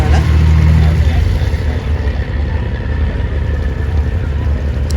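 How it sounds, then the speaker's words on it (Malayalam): A boat engine rumbles steadily on Vembanad lake as the boat slowly nears the shore, a loud low drone that eases slightly after the first second, mixed with wind and water noise. "ബോട്ട് പതുക്കെ അടുത്തോണ്ടിരിക്കുവാണ്."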